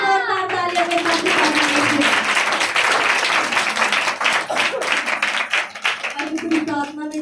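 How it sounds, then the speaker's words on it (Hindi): A Hindi-speaking church congregation at a Sunday prayer meeting in Ambala applauds loudly, a thick, continuous wave of clapping lasting several seconds, with voices heard at the start and again as it fades. "तारीफ करें जोरदार तालियों के साथ"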